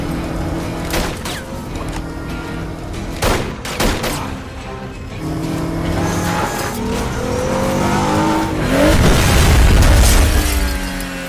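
Revving car engines and sharp bangs, building to a loud, heavy impact with grinding noise near the end.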